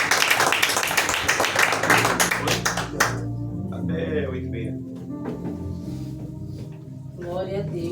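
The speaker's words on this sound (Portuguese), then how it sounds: "as palmas agradecem ao Senhor Jesus." A church congregation claps together in a dense burst for about three seconds, then the clapping stops and a voice and music carry on through the rest.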